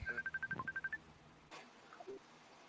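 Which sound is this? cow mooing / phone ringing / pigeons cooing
phone ringing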